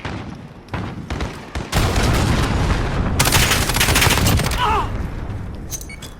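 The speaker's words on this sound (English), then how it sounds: "Allied cruise missile away." A cruise missile strike lands in a Call of Duty match, with sudden heavy blasts and dense rattling gunfire in bursts, loud and close, ending in scattered shots.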